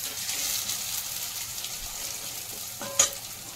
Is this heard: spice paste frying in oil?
yes